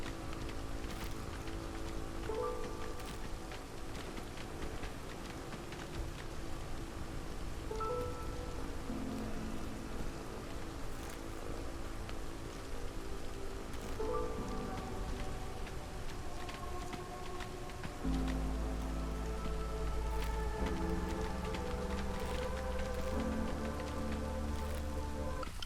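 Heavy storm rain pours steadily in the Against the Storm video game, a continuous wash of rainfall beneath layered, sustained musical tones that shift and deepen partway through.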